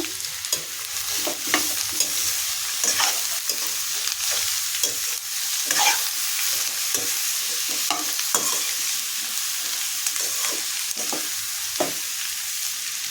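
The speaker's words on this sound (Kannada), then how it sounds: "ಕಟ್ ಮಾಡಿರುವಂತಹ ಪಡವಲಕಾಯನ್ನು ಸೇರಿಸಿ ಇದನ್ನು ಎಣ್ಣೆಯಲ್ಲಿ ಒಂದು ನಿಮಿಷ ಚೆನ್ನಾಗಿ ಫ್ರೈ ಮಾಡಬೇಕು" Chopped snake gourd and onion frying in oil in a pan, a continuous close sizzle broken by repeated scraping stirs of a spoon at an uneven rhythm, with no talking.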